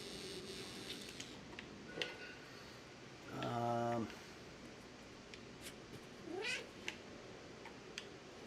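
A cat meows outdoors in a harmonic, drawn-out call lasting under a second, with a fainter rising meow a few seconds later, set against steady background noise and scattered ticks.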